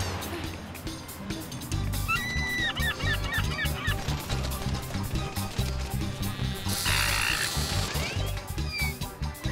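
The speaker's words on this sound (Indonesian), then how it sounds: "Itu burung camarnya." Cartoon seagulls let out bursts of shrill squawking calls, one cluster early and another later, over busy background music and sound effects.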